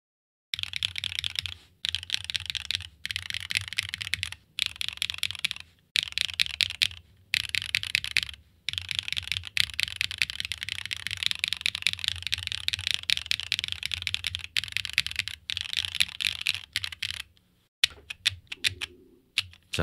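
A Frog Mini computer keyboard typed on in fast continuous bursts of crisp clicky keystrokes, close and clear, broken by short pauses, with no talk.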